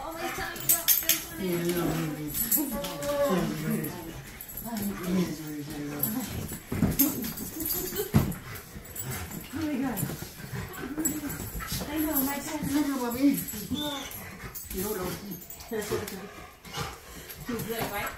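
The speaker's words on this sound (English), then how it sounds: "Oh, you dogs are so happy, aren't you?" Several dogs whimper and whine excitedly at close range after their owners return home, high yelps mixed with clinking dishes, under constant cheerful talk.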